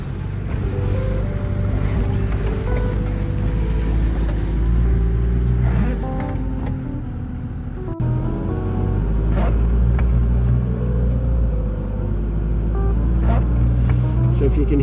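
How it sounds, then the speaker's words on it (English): A steady low car engine hum heard from inside the vehicle while off-road driving up a steep hill, the revs slowly rising, with a person talking over it. "the engine revs are climbing a little bit, it's just telling you how steep the hill is"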